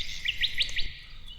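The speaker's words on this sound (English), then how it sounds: "So these bird sounds are ones that he's actually recorded." Recorded birdsong used in an electronic music track: four quick, high chirps in a rapid run over a faint low background, closely captured and clear.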